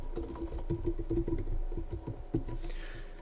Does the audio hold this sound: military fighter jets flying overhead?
no